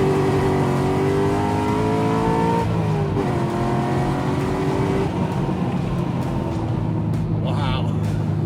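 A Corvette accelerates hard in first gear beside a highway, its loud engine rising in pitch through a long roaring pull before the note drops, with people talking over it.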